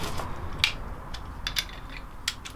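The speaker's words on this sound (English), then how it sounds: "So I've got my torque wrench." Clicks of a torque wrench ratchet tightening a 14mm bolt to a set torque on a Honda CB250 scrambler, a few sharp close clicks spaced irregularly over low background noise with no talk.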